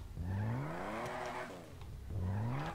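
The engine of a classic car in GTA 5 Online revs twice, each rev rising smoothly in pitch with a throaty, harmonic growl before falling away. The revs are loud and close, and no one talks over them.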